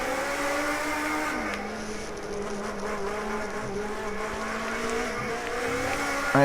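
A Mercedes race car holds a steady, loud engine drone close by, its pitch easing down and then climbing again as it accelerates, with faint tyre squeal mixed in.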